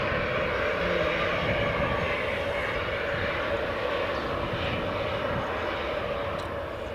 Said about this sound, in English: we have a Loganair Embraer 145 just about to depart, as well as a Jet2 737-800 taxiing along